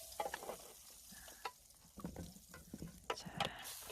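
Oil and a little butter sizzle softly in a pan over medium heat for rolled egg, with faint crackling, occasional stirring and utensil clicks, quiet and close.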